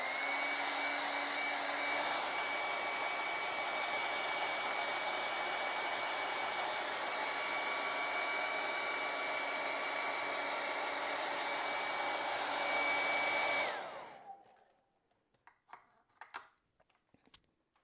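A hair dryer blows steadily on acrylic paint during a bird painting session, a loud, constant whooshing roar that runs for about fourteen seconds and then cuts off, leaving faint scattered taps and small handling noises.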